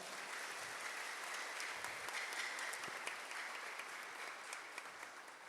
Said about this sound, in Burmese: အားလုံးဘုရားသခင်ကိုလက်ခုပ်တီးပြီးချီးမွမ်းရအောင်